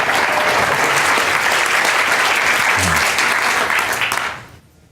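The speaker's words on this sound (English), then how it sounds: "Please give him a killer round of applause" Loud, sustained applause from a large audience at a science-communication competition final, a thick roar of clapping that holds steady for over four seconds before fading quickly.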